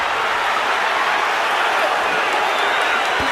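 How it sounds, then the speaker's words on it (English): Loud, steady roar of a boxing arena crowd cheering without a break during the Ward vs Kovalev rematch, dense and continuous throughout. "Crowd rocking and rolling."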